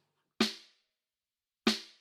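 Snare drum sample miked from underneath at the wires, two sharp hits about a second apart, each with a bright crack and a short buzzing rattle of snare wires that dies away quickly.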